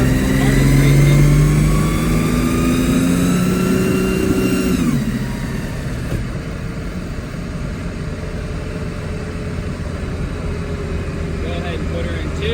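AWD car with a 2JZ engine and custom 3.5-inch to 2.5-inch dual exhaust, heard from inside as it accelerates hard with rising engine pitch, then the drone eases off after a shift to a steadier lower cruise; a voice talks over it.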